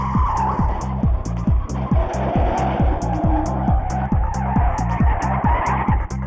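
Tires screech continuously as a joyrider's car skids in a UK town, loud and close, with a rough engine roar pulsing underneath throughout.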